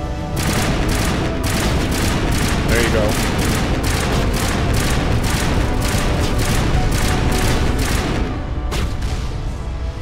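High explosive rounds fire from an assault weapon in the video game Mass Effect Legendary Edition, a loud rapid continuous burst of booming shots that briefly stops near the end, with a voice speaking over it.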